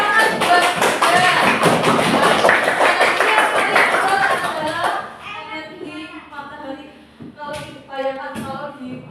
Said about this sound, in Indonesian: Tepuk tangan buat Maiza.